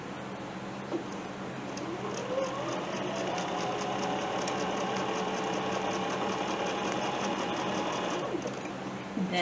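A Bernina sewing machine stitches a quilt block in a steady mechanical whir with a fast rhythmic needle tick, running continuously close up and alone.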